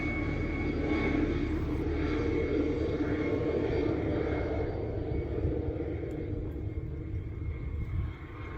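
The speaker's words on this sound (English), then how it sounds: "while the helicopter hovers, circles overhead." A steady, heavy rotor and engine rumble from a medical evacuation helicopter hovering and circling overhead at Koko Head Crater, constant and loud throughout with no voices.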